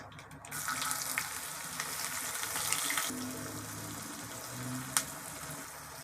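Onions frying in hot oil with mustard seeds, urad dal and cumin for rava upma, giving a steady close crackling sizzle with watery hiss that runs throughout, a brief sharp clink near the end.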